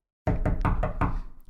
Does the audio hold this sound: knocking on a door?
yes